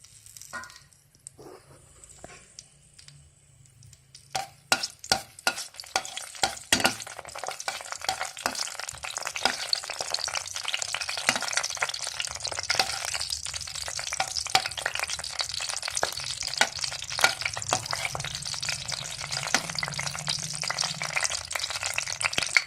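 Cinnamon, cloves and bay leaf dropped into hot oil in a pan for mutton keema curry, starting quiet, then bursting into loud crackling and spattering that settles into a steady sizzle.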